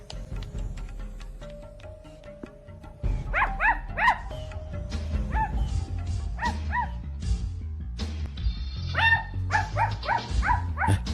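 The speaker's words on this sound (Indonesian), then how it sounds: "Anjing siapa yang menggonggong?" A dog barks repeatedly in short, close yaps over background music, with the barks clustering in quick bursts during the second half.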